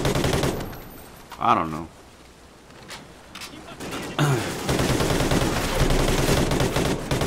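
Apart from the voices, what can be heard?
gunfire from the video game Call of Duty: Ghosts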